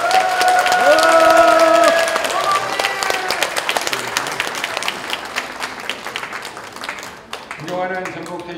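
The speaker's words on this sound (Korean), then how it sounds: "괜찮으시다면 박수 한 번만 부탁드리겠습니다" A large crowd of delegates at a regional party convention and candidates' joint speech event applauds and cheers loudly, with voices and announcements mixed in, the clapping fading unevenly before a brief pause and renewed voices.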